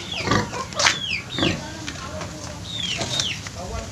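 A pig in a pen grunts in several short, rough bursts, close by, with bird chirps scattered through the background and a few quiet voices.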